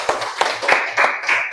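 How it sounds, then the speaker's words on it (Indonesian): A classroom group claps for a presenting team, giving a short, fairly close burst of scattered hand claps with a few distinct slaps. "Kita kasih aplaus lagi buat kelompok 2."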